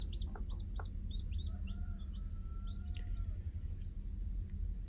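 Mother hens sitting on naturally hatching eggs give soft, repeated clucks and chirpy calls, close and fairly quiet over a low steady background hum.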